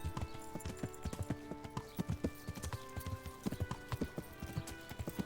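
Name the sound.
horse galloping, from the video game Kingdom Come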